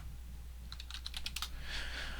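Quick bursts of clicky keystrokes on a computer keyboard entering a Linux network command, close and fairly faint over a low steady hum, with no talking.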